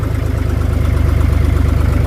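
A cold John Deere 5205 tractor diesel runs at idle after starting, a loud, close, steady low-pitched chug with an even rhythmic pulse and no talk.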